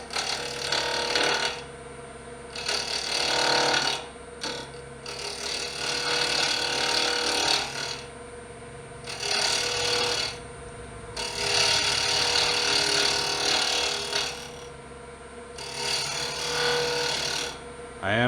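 Wood lathe spinning near 2500 RPM while light cuts shape a wooden pendant held on double-sided carpet tape, giving bursts of bright cutting noise that come and go in repeated passes over a steady motor hum.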